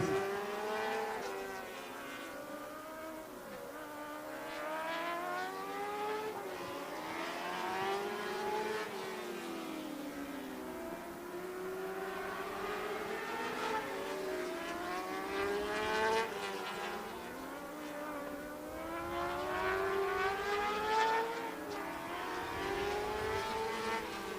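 Race cars circle the oval speedway at Wall Stadium, their engines rising and falling in long, steady waves as they come round and pass. The roar is moderately loud and continuous throughout, with no talking.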